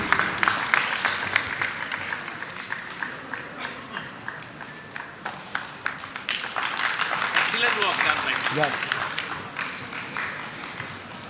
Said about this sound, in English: Please put a big round of applause for this gentleman.